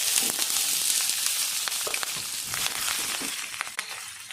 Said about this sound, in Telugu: ఆయిల్ అయితే వేడైంది. ఇప్పుడు కొంచెం జీలకర్ర, తాలింపు గింజలు, నెక్స్ట్ వచ్చేసి ఆనియన్, కరివేపాకు, పచ్చిమిర్చి వేస్తున్నాను